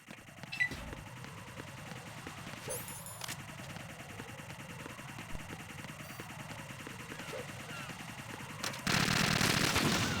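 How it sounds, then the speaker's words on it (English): Rapid video game gunfire in Metal Gear Solid 2 on PC rattles in a steady automatic stream under game music, closing with a loud burst of noise near the end. "Yeah, I'll shoot the bomb."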